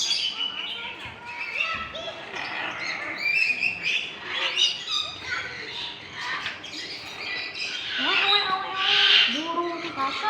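Birds chirp and squawk steadily at a new tourist spot, bright calls running throughout under people talking nearby.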